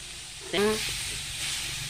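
Beetroot fries in a pan with mustard seeds and curry leaves, giving a steady close sizzle and hiss with a brief louder burst of spattering and stirring early on.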